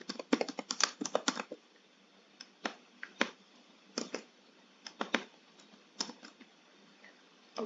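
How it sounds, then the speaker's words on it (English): Keys on a computer keyboard clatter in quick irregular bursts of clicks, close and crisp, with short pauses between runs of typing and no talk. "I'm gonna type the same thing here."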